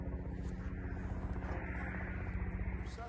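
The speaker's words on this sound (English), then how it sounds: "I think that's a helicopter coming over." Steady rhythmic rotor thumping of a helicopter passing overhead, a low pulsing drone that stays fairly constant and moderately loud.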